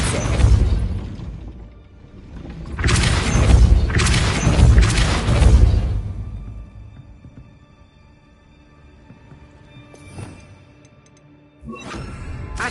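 In Hogwarts Legacy, a Depulso spell blast lands as loud, broad booming bursts, several heavy thumps within a few seconds, then a quiet stretch with one faint pop and another burst at the end.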